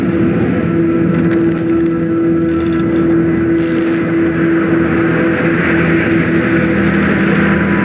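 Boat engine running in Red Dead Redemption 2, a loud, constant droning hum with a steady tonal whine, sustained without pause throughout.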